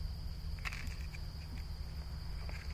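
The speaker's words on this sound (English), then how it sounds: "This is the cricket." A cricket chirps steadily at close range, a thin continuous trill running through the whole stretch over a low background rumble, with no one speaking.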